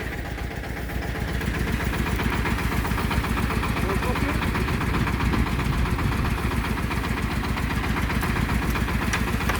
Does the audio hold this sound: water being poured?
no